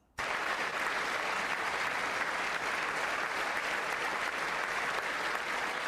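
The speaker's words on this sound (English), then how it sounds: "Every single Republican in there stood up and clapped." Republicans at the State of the Union burst into sudden, steady applause, a dense wash of clapping that keeps going at full strength for several seconds.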